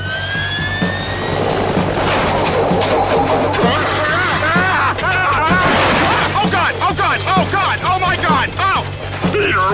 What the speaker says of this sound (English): Quick, to the Peter copter!